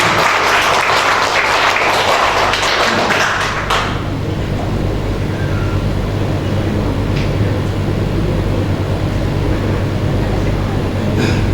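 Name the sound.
audience applause at a company event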